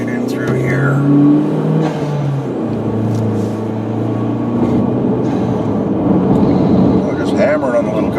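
Small car engine revving hard while driven on the road, a loud close drone with rising and falling engine pitch and a strong low rumble throughout, with talking inside the car over it.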